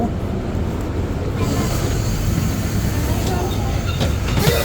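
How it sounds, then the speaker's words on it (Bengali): A Chinese high-speed bullet train carries a steady broadband rumble and rushing roar, loud and continuous throughout, with faint clicks near the end. "তো চায়নার এই হাই স্পিড ট্রেন অনেক পপুলার"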